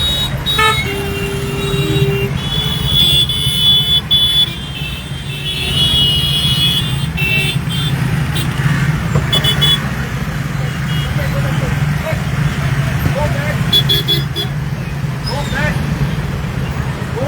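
Dense, steady traffic noise at a congested Saligao circle junction, with a constant low engine rumble, scattered horn toots and people talking over it throughout.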